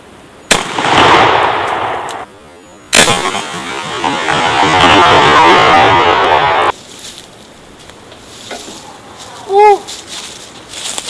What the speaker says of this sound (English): Second shot is going to be at the 4-shot Remington Turkey Magnums.